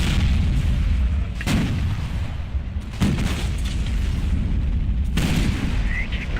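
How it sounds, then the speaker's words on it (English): Heavy artillery booms out in a World of Tanks match, three loud blasts spaced a second or two apart, each followed by a rumbling tail, with no talking. "Artillery."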